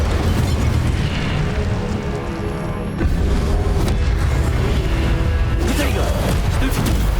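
Fire spell Incendio cast repeatedly in Hogwarts Legacy, a dense loud roaring burst sustained throughout with booming rumbles and a brief dip midway.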